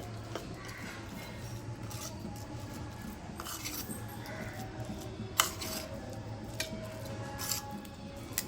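Food colouring is stirred into a mixture in a bowl, giving quiet scraping and light clinking of a spoon against the dish, with a few sharper taps near the end. No one speaks.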